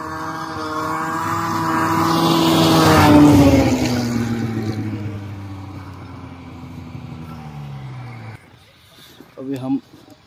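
Snow bikes ride the slopes at Gulmarg in Kashmir, an engine whine rising as one passes close and then fading into the distance, with people talking over it near the end.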